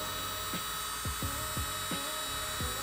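A MelodySusie Scarlet electric nail drill runs with a steady high whine, punctuated by several repeated short downward-sweeping tones at irregular intervals, close and moderate in loudness, with no speech.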